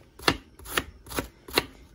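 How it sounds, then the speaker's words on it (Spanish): Knife chopping cabbage on a board, four crisp, evenly spaced cuts close by in a steady rhythm, fairly quiet with no talk. "aquí estoy picando el repollo, como pueden observar, lo pico así"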